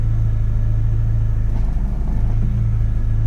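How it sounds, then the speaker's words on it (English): A car engine idles with a steady low rumble; midway the idle briefly sags and wavers as the clutch is released in neutral, before settling back to its even drone. "The car still kind of moves and the idle goes down a little bit."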